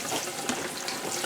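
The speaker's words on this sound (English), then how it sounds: "I'm rinsing all the lemon juice off there" Running water rinses lemon juice off cubed potatoes, a steady close splashing hiss from a tap pouring into a sink, no voices.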